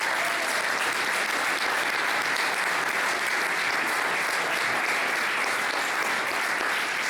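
A theatre audience applauding after a comedy play, dense, sustained clapping from a large crowd filling the whole stretch at a steady loud level, with no voices heard.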